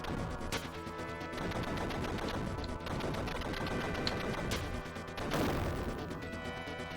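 Rapid continuous gunfire from the arcade-style shooter Target Earth, a dense stream of shots and impacts mixed with game music, loud throughout with brief dips between volleys.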